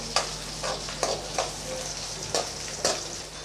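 Garlic cloves and curry leaves sautéing in a pan for brinjal kara kuzhambu, a low steady sizzle broken by regular spoon scrapes and clinks as the mixture is stirred.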